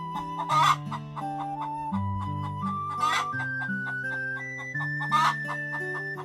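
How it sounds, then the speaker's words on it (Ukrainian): A cartoon chicken clucks in three short bursts spaced evenly apart, set over bright, steady children's music that carries on throughout. "Ось курка. Вона каже ко-ко-ко."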